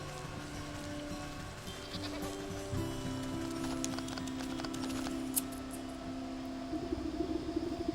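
Goat bleats from the Wytchwood video game, a few drawn-out nasal calls over a steady ambient music bed with soft rustling, fairly close and moderately loud.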